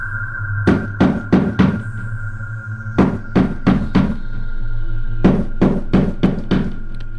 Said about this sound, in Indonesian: Dari arah pintu depan suara ketukan mengagetkannya